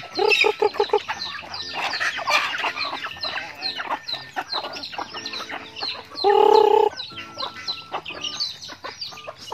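Several native chickens cluck and chatter close by in a busy, overlapping flock, with one louder drawn-out call partway through.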